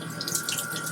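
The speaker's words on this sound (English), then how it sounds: "Now we're going to run our water." Tap water runs into a sink where frozen shrimp are being deglazed, a brief steady splashing stream with light dripping, close by and alone.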